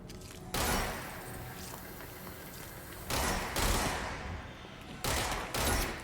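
Bursts of rapid gunfire on a shooting course in the video game Control, several loud close volleys separated by short pauses, set over a steady ambient hum.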